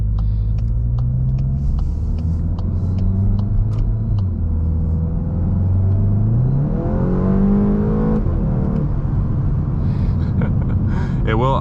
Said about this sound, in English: So I was in third, I floored it, it automatically downshift to second, even in manual mode.